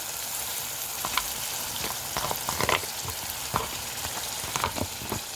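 Fava beans frying in a pan with onion, garlic and bell peppers give a steady, close sizzle, with a few sharper crackles and pops and some brief stirring scrapes scattered through it.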